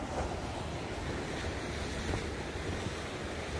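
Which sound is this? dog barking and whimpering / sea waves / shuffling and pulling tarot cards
sea waves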